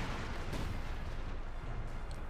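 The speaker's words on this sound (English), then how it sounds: "There you go, another 25-pound barrage." A 25-pounder artillery barrage in Company of Heroes 2, a dense continuous rumble of distant shelling with overlapping booms, steady and moderately loud throughout.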